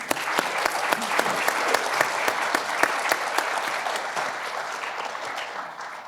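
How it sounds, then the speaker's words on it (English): Audience applause for conference panelists at the close of a multifamily industry session, a dense, steady clapping from a room full of people, loud and sustained throughout before tapering slightly at the end, with no talk over it. "join me in giving our panelists a round of applause"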